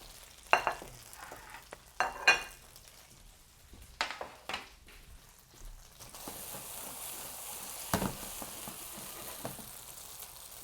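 Homemade gnocchi frying in a pan, a soft sizzle that grows steadier partway through, broken by several sharp clatters of stirring and scraping.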